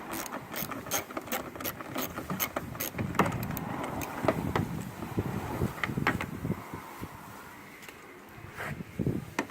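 A ratchet clicks rapidly and repeatedly while removing tail light bolts on a Hyundai Accent, the close metallic pawl ticks running in quick bursts against faint background wind.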